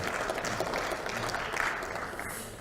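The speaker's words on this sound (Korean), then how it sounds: "우리 원내대표단 여러분들 박수 한번 좀 크게 쳐주시기 바랍니다" Applause from lawmakers at a party assembly meeting, a steady patter of clapping at moderate distance with some crowd murmur mixed in.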